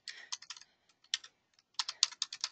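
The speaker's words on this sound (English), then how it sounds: "I'm going to go ahead and type this in so that everybody can see it." Keystrokes on a computer keyboard, quick bursts of clicking taps with a short pause in the middle, close and clear with no voices.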